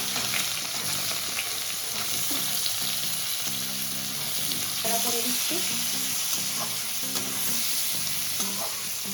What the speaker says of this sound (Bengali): তেলটা গরম হয়ে গেছে গোটা গরম মশলা তেজপাতা শুকনো লঙ্কা তো এটা প্রথমে দিয়ে দিলাম